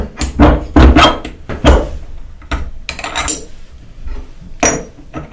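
Metal clunks and clatters as a spacer and nut are fitted back onto a router spindle in a sash window tooling setup, several loud close knocks spread irregularly across the moment.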